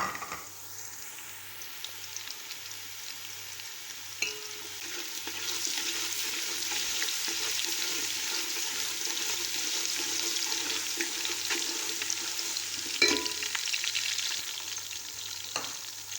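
Garlic and browned onions fry in hot ghee in a pan for moong dal, giving a steady, even sizzle close by that runs throughout, with a few brief clinks and stirring scrapes and no talking.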